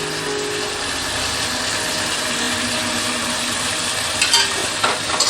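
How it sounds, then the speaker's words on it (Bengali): Mustard paste fries in a pan with a steady, close sizzle, stirred with a spoon for a tilapia curry with mustard and nigella seeds; a few brief scraping sounds come near the end. "চামচ দিয়ে একটু ভাজা ভাজা করবো।"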